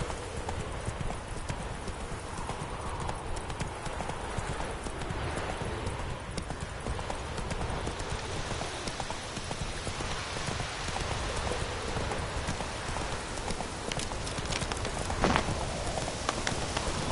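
Horse hooves clip-clop at a gallop in the video game Witcher 3, a rapid, steady pounding over a dense rain-like background.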